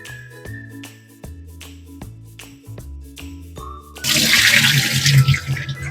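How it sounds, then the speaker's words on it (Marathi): Lentils (dal) being rinsed by hand in water at a kitchen sink, with sloshing and trickling that swells into a loud running, splashing rush near the end; a few clinks sound over it, and nobody speaks. "आपल्याला व्यवस्थित डाळ ही व्यवस्थित धुवून घ्यायची"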